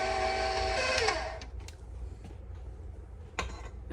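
An electric mixer whirs steadily through whoopie pie batter with vanilla, loud at first, then stops after about a second, leaving faint clicks and taps of the bowl and utensils.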